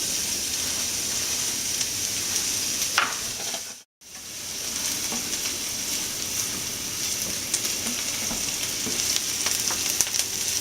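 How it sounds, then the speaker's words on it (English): Onions sizzling in hot olive oil in a pan for homemade pizza sauce, a steady close crackling hiss that cuts out briefly near four seconds then resumes, with faint stirring and no talk. "Make sure your pan is hot before you put the onions."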